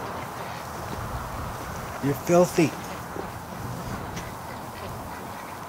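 Ducks quack at a barn in a short burst of two or three calls, fairly near, while a person talks over steady background noise.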